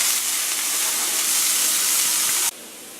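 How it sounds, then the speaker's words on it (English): Onion, ginger and garlic frying in a pan give a loud, steady sizzling hiss that cuts off abruptly near the end, leaving a quieter hiss, with no voices. "so let's get frying our onion, our ginger, and garlic"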